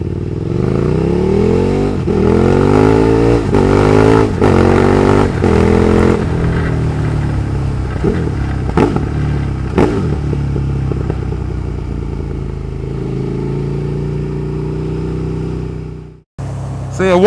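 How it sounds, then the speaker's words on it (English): KTM 1290 Super Duke R motorcycle with a Pipeworks exhaust can, loud and close, revving hard through several deep blips before settling into a lumpy idle, with a brief cutout near the end. "the noise of this Pipeworks can on this bike"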